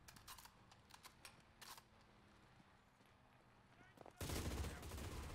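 An MG42 machine gun in the World War II shooter Enlisted fires short rattling bursts, then a loud, sustained, buzzing stream of rapid fire close up.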